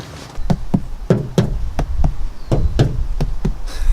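Knuckles knock repeatedly on the front door of a truck camper, about a dozen sharp raps in an irregular rhythm, close and loud, with a slightly rattly, hollow character.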